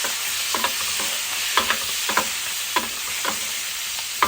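Food frying in a pan and being stirred, a continuous soft sizzle broken by a series of sharp spoon-against-pan scrapes and taps at irregular intervals, with no talk.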